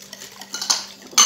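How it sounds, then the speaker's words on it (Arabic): Cookie dough ingredients with oil and flavourings being mixed in a bowl, brief scraping and clinking of a utensil against the bowl with a louder clatter at the end, close up and without talk. "نخلطوهم البنات مليح مليح"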